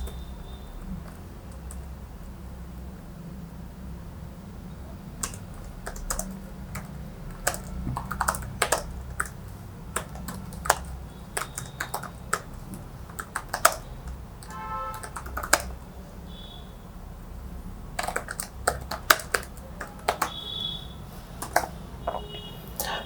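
Bursts of typing on a computer keyboard while writing HTML code, quick clusters of close key clicks separated by short pauses, with no talking.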